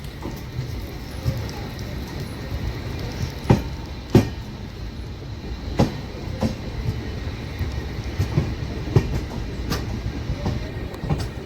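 Netravati Express rolling through a small one-platform station at night, with a steady low rumble and periodic sharp clacks from the wheels over rail joints, close and continuous throughout.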